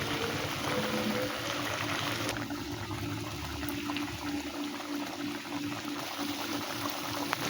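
Paneer butter masala gravy bubbles steadily in a pan, a continuous close, moderately loud boiling texture that holds for the whole stretch with no talking.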